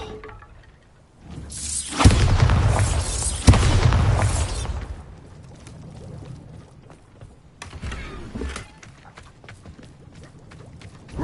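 The Bombarda spell blasts in the video game Hogwarts Legacy inside an old mine, with two loud booming bursts close together followed by rumbling, crumbling debris and a further sharp burst near the end.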